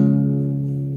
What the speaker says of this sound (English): so you strum from the fifth string down